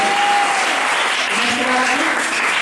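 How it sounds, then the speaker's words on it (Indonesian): A congregation claps together at a church seminar in Tondano, a thick, sustained wash of applause with a faint voice or tone drifting underneath. "Berikan tepuk tangan bagi Tuhan Yesus."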